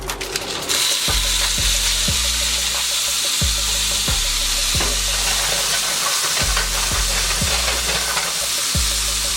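Ricotta gnocchi sear in butter and cold-pressed olive oil, with a loud steady sizzle and regular low thumps and scrapes as the pan is tossed or stirred, and no voices.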